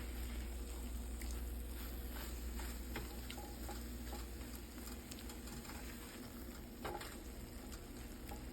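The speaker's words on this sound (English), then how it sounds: "And now we're back to stirring the eggs" Eggs are stirred in a frying pan over low heat, a soft continuous sizzle with faint scraping strokes and light taps from the utensil scattered throughout, fairly quiet and without speech.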